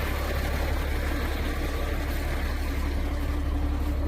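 A 2000 Freightliner FL70 truck fitted with a knuckle-boom crane idles steadily, its low diesel rumble continuous and close with no pauses or talk.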